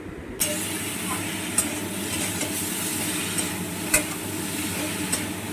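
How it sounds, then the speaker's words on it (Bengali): Potato and eggplant pieces fry in a pan with salt and turmeric for a moya fish dish while being stirred, giving a steady dense sizzle with occasional spoon knocks against the pan, close and continuous. "নুন হলুদ দিয়ে ভালো করে সবজিগুলোকে ওয়েল মিক্সড করে নেব"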